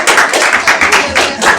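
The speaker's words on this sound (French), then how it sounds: "Applaudissez-le." A small group claps at a French-speaking meeting after a contributor shares his view, with uneven bursts of hand claps across a short span.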